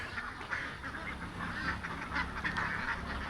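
A flock of ducks, many birds together, quacks and honks in a continuous overlapping chorus, close and fairly loud, with no talk over it.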